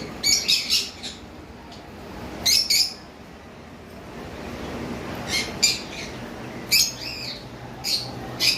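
Three cockatiels in an aviary give short bursts of shrill chirps and squawky calls, spaced with pauses, moderately close above a quiet background.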